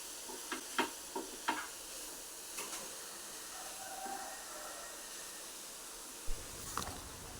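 Ground chicken stirred into frying onions in a pan, a quiet sizzle broken by scattered scraping and tapping strokes of a utensil, with no talking.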